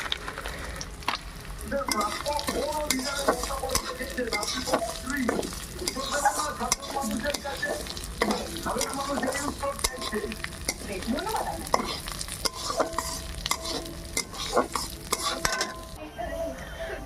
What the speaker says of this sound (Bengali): এবার ডালটা ঢেলে দেবো। আর ডালটাকে ভালো করে ভেজে লাবিয়ে দেবো।